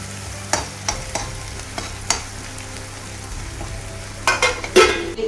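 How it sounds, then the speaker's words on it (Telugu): Ingredients for a Rayalaseema fish curry deep-fry in hot oil until brown, a steady low sizzle broken by several sharp spatula scrapes and stirring knocks, the last few louder and closer together. "కొంచెం బాగా డీప్ ఫ్రై, కొంచెం బ్రౌన్ కలర్ వచ్చేదాకా కొంచెం అట్లా వేయించుకోవాలి"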